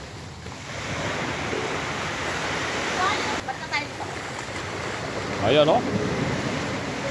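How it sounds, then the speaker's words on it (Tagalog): Sea water rushes and surges along Sual beach in Pangasinan as a steady wash of surf with wind, while people nearby talk briefly over it. "Rumaragasan ng tubig."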